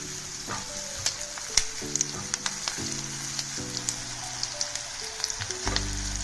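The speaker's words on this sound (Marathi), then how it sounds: "प्रथम तेजपत्ता घालून चांगले परतून घेऊया" Bay leaf and whole spices fry in hot oil as the base for dhaba-style butter chicken, a crackling sizzle with frequent sharp pops and scraping stirs, close and fairly quiet with no talking.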